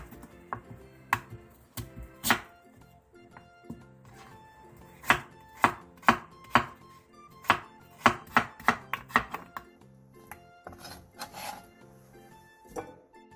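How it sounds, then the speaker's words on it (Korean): A knife chops radish into finger-sized sticks on a cutting board with sharp, close, uneven thuds that come in quick bursts, then thin out toward the end. "무 5cm 두께 한 토막을 손가락 한마디 정도의 두께와 길이로 잘라주세요"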